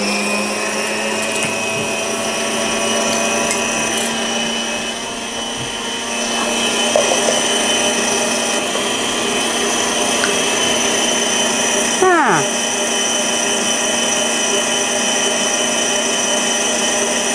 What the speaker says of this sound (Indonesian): ini saya lanjut untuk ngocok kuenya aja